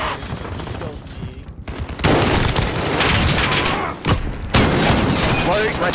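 Gunfire in a Call of Duty: Modern Warfare multiplayer match: loud, dense rapid bursts and booming shots that come in waves, with brief lulls between heavy volleys.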